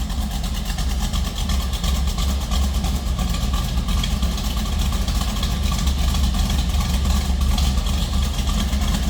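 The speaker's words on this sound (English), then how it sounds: "rumble coming out of that Chevy small block" A 1967 Chevrolet Camaro RS/SS with a Chevy small-block V8 idles on a cold start in neutral, a deep, even, loud rumble heard from behind the car with no change in pace throughout.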